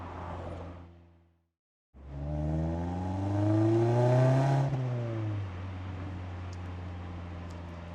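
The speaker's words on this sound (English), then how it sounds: "it gives you an idea of what this exhaust is like" A Mazda MX-5 with an HKS Legamax Premium aftermarket exhaust drives on the road, the engine note dropping briefly, then climbing in a strong rising rev through the gears before easing off to a steady cruise.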